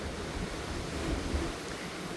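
Steady surf washes nearby while a soft wind hisses across the scene, a constant even rush with no talking.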